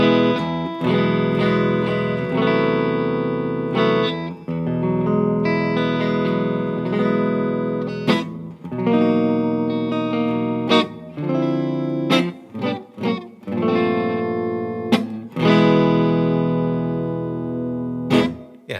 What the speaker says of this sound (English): I'm in the neck position and I'm going through the iridium on the chime setting. So we'll see some reverb and stuff too.